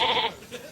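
A sheep in a flock bleats once loudly and close, followed by a fainter second bleat.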